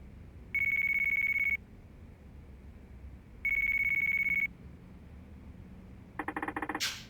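A phone in the video game Yakuza 4 Remastered rings twice in long, even electronic bursts with a pause between them. A short burst of clicking game sound follows, and no one speaks.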